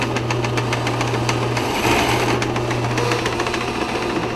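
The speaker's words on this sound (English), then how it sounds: "we're going to get the saw started" A power saw starts up and runs steadily in a machine shop while stock is readied for a drill press vise, its engine-like hum and rattling vibration close and loud throughout with no talk.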